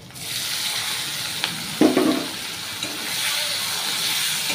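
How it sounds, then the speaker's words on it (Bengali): Chopped onion frying in hot oil for a fish curry, a steady close sizzle and hiss with a brief clatter partway through. "পেঁয়াজটা একটু ভেজে নেবো হালকা করে"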